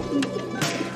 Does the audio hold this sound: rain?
no